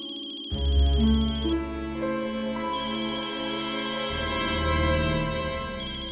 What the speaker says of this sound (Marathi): राजचा फोन आहे.